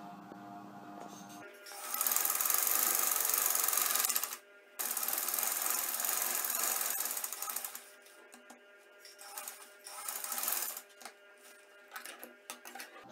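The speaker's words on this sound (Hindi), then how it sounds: "इस तरह सिलाई लगा लें" A sewing machine stitches a Chinese collar neckline, a fast whirring run of about three seconds followed by a second, slightly quieter run and then some light clicking.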